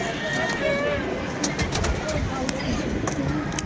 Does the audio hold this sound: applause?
no